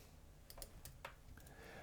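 A few sharp keystrokes tapped on a computer keyboard to enter a division into a calculator, several quick clicks spaced irregularly at close range over a low steady background hum, with no talking.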